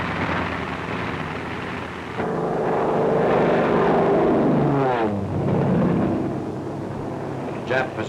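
P-40N propeller fighter planes roar loudly in 1944 wartime combat footage, a sustained engine drone that swells and shifts in pitch as the aircraft pass, with a faint voice underneath.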